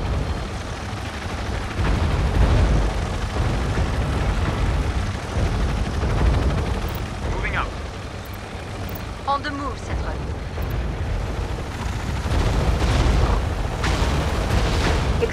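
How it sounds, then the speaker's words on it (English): Heavy rumbling booms and blasts from a battle inside a refinery compound in the video game Tom Clancy's EndWar, layered with radio chatter and a steady low roar throughout. "Explosions inside the refinery compound."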